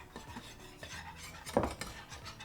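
A whisk scrapes and clinks against a bowl while stirring seasoned all-purpose flour coating for buttermilk fried chicken, making quiet, close, irregular metallic scraping with one brief louder clatter.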